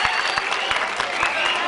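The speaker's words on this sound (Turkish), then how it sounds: "Önce bir alkış." An audience at a village entertainment gathering in Hamzalı, Mesudiye, Ordu applauds for a singer, a brief, dense burst of clapping with individual claps standing out, loud and close throughout.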